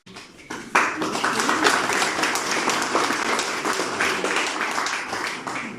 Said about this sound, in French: Les applaudissements, ça fait toujours plaisir.